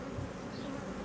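Honeybees crowd around their queen during a hive inspection, a dense steady buzzing close up, continuous and unbroken.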